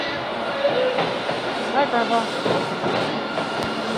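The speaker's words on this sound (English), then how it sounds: "another train coming from the 60s" An old Boston subway train from the 1960s arrives, rumbling steadily with faint squeals and rattling, while a voice briefly speaks over the noise.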